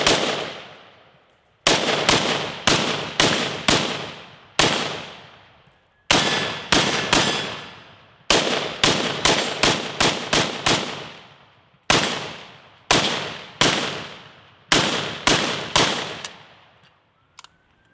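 An AK-12 clone rifle fires loud, sharp shots outdoors, in bursts of rapid cracks separated by short pauses, with each group ringing out and decaying.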